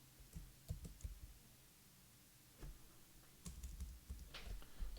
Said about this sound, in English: my keyboard is sticking because I'm making a video.